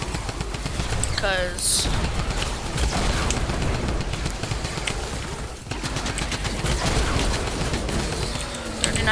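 Rapid automatic gunfire from the Typewriter gun in Fortnite Save the World, a dense continuous rattle of shots with game effects, heard under a player's talk.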